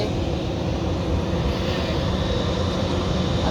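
A steady, loud roar of jet engines fills the clip as an airplane takes off nearby, a constant rumbling drone with no talking.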